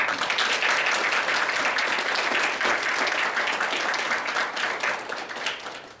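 Audience applause at a closing address and awards ceremony, honouring two students: dense, steady clapping from a large crowd that holds strong throughout and tapers off near the end.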